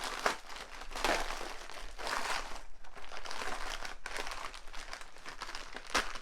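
Hands open a book package, with close, repeated crinkling and crumpling of plastic or paper wrapping in bursts, plus a sharp tear or snap near the end.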